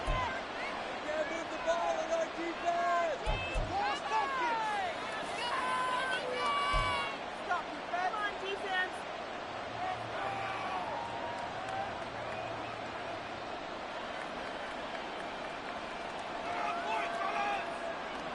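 A roaring stadium crowd inside a domed NFL stadium during a Miami Dolphins game, a dense, steady wash of noise throughout with an announcer talking over it.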